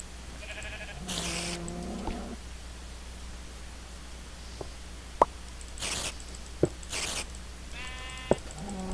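Several short synthetic sheep bleats in a Minecraft-style video game, spaced apart, with occasional sharp clicks and a steady low background hum between them.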